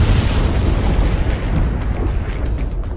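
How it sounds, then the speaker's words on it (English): Massive explosions at the Beirut port, caused by 2,750 tons of ammonium nitrate, heard as a loud, sustained rumbling roar with a deep low-end boom that holds steady throughout. "Massive explosions at Beirut port on August 4th killed at least 190 people and injured thousands of others."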